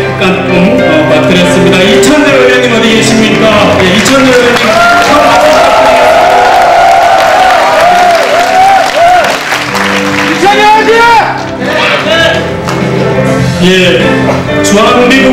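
Applause and some cheering from a Bareunmirae Party convention crowd fill the hall, while an announcer's amplified voice talks over it and the clapping thins out toward the end.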